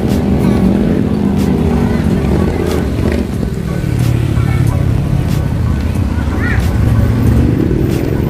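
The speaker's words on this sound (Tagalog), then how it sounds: "I-video ko lang naman itong motor natin." A motorcycle fitted with a new alloy top box runs steadily nearby, its engine a loud continuous rumble and drone with shifting pitch and some wind or road noise, with no speech over it.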